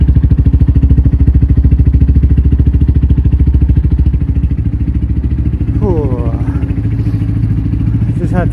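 A Honda CB125F motorcycle idling after a bump start, its close, loud engine chugging in an even, rapid rhythm throughout, with a brief voice near the end.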